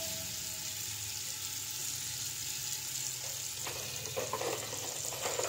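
Onions sizzle in hot oil in a home kitchen as the base for chicken pulao, a steady close frying hiss with some stirring and scraping toward the end.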